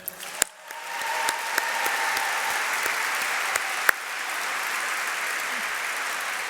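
Graduates and guests at the Johns Hopkins SAIS Europe 2023 commencement give a steady round of applause to friends and family, the crowd clapping evenly over several seconds with a few sharper close claps standing out.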